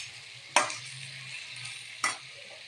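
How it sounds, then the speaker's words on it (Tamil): Marinated mushrooms fry in hot oil in a pan under a soft, steady sizzle, broken by two sharp bursts of crackling spatter, each as pieces drop into the oil. "காளான இதில் நம்ம எண்ணெயில் ஃப்ரை பண்ணி எடுத்துக்கலாம்"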